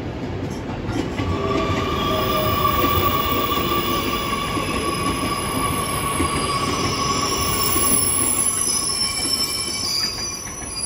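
A JR 817 series local train on the Fukuhoku Yutaka line pulls into Hakata station with a loud, steady, high wheel squeal that lasts throughout over a rumbling rail noise.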